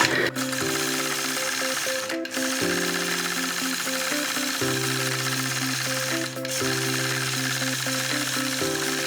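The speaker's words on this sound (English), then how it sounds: "So this is where the free motion quilting will come in." A sewing machine stitches free motion quilting on a grapefruit quilt block, its needle hammering in a steady fast rhythm for long runs with brief pauses and pitch shifts, close and loud.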